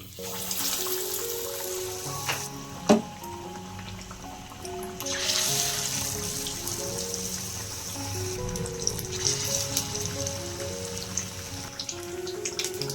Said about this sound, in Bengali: এবার আমি চপগুলোকে তেলে ভেজে নেব।